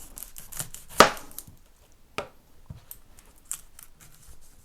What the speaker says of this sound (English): We're chopping this onion but removing first the skin.